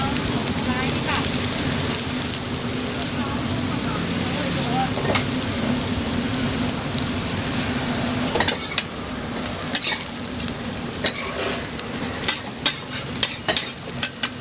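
Dozens of eggs frying on a large griddle at a busy Taiwanese street food stall, a steady close sizzle throughout, with sharp scraping and tapping of utensils growing more frequent toward the end.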